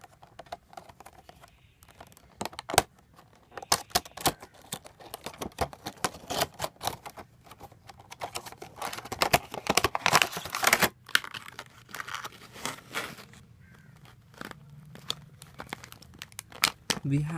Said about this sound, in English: Let's unbox the device.